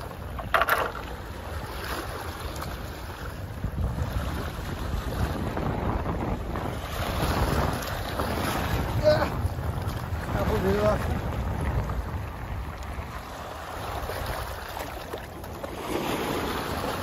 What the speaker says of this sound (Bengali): পানি আস্তে আস্তে বেড়ে যাচ্ছে ঢেউয়ের সাথে সাথে